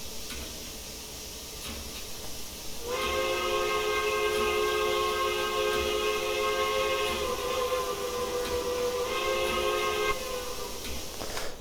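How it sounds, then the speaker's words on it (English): Steam whistle of a GN Brooks 4-8-0 locomotive in Train Simulator Classic, a loud, rich chord sounding steadily for about seven seconds over a background hiss, then cutting off. "This has one of the prettiest whistles in the game, without a doubt."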